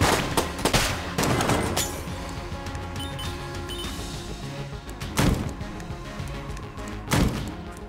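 Pistol gunfire in the video game Enter the Gungeon: a steady game soundscape punctuated by several sharp, loud shot bursts, strongest near the start and twice more later, with no talking.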